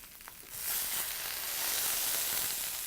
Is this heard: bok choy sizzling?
yes